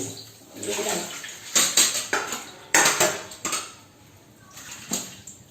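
Pots and steel utensils are scrubbed and washed in a home kitchen, with close clanks and scrapes of metal dishes in irregular bursts over running, splashing water.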